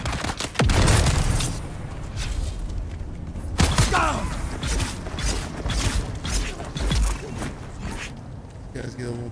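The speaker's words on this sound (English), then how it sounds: "Throwing grenade." A thrown grenade bursts in the video game Dune Awakening, with sharp blasts and mechanical clatter amid other combat noise, and someone talks over it.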